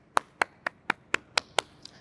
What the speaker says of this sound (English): Let's give ourselves a sound clap